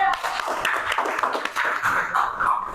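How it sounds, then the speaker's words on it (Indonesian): Classroom audience clapping hands after an ice-breaking game, a brief burst of mixed, uneven claps close by with voices chattering underneath. "Tepuk tangan dulu."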